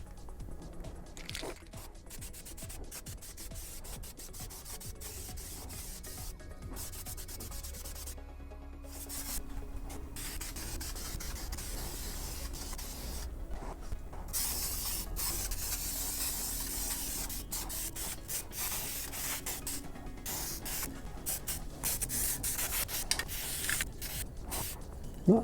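A spray can hisses in long bursts while coating a Boba Fett jet pack built from Sintra plastic sheet, faint steady spraying with short gaps and a louder stretch in the second half.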